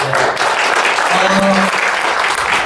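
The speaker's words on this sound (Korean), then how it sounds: "다시 한번 큰 박수 부탁드릴게요" Dense, loud applause from a large audience at a Korean lecture event, a steady roar of many hands clapping together with faint voices mixed in.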